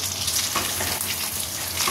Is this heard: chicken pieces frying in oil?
yes